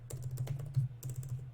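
Rapid typing on a computer keyboard while writing HTML markup for a Laravel site: a steady run of close, crisp key clicks with a slightly heavier keystroke near the middle and no talking.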